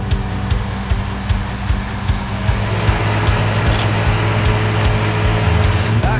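A triple reel mower cutting grass on a farm headland, its engine droning loud and steady with a constant hum and faint rhythmic ticking, heard alone without talk.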